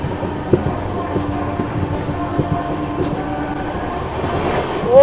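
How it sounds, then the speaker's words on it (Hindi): Kolkata Rajdhani Express rushing past at speed on Eastern Railway tracks in dense fog, a loud, close, steady roar with rhythmic clickety-clack of wheels over rail joints, building at the end. "भाई साहब गजब की एग्रेशन के साथ आ रही है हमारी कोलकाता राजधानी एक्सप्रेस"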